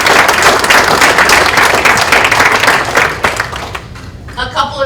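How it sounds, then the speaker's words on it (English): A college lecture audience gives a quick round of clapping, dense and loud for several seconds before tapering off as a voice resumes at the end. "So just a quick clap."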